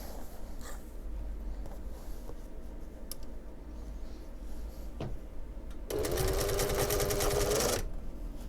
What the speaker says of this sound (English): we're just going to sew